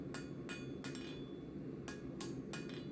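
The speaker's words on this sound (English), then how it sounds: "This is just a light 1 3/4 pound hammer." A light 1 3/4 pound hammer striking a cooling steel billet while forging a Bowie knife, six ringing metallic hits in two groups of three, each with a short clear ring, over a steady low background hum.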